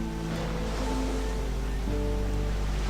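Water sloshes and waves wash around steadily as a character jumps into the sea in the game Risen, with tonal game sounds humming underneath.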